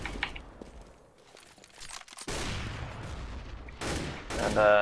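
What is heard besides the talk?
grenades, flashbangs and gunfire in CS:GO video game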